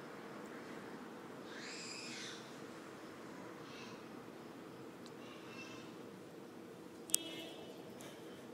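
A small pet bird gives a couple of faint calls, heard indoors over a quiet steady background hum, with a single sharp tick near the end.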